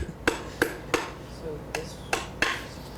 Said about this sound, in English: it's a cross-peen hammer that we use for anticlasting